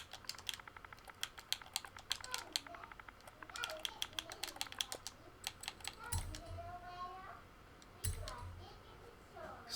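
Quick bursts of keystrokes on a computer keyboard tap out a share code for a game, with runs of crisp clicks, short pauses and a couple of heavier key thumps, quiet and close.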